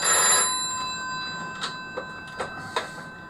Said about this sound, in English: Right, he's ringing me on another phone now.